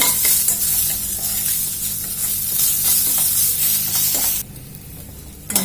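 Steady loud sizzling of coriander stems frying in a pan, with stirring scrapes, dropping to a quieter hiss near the end.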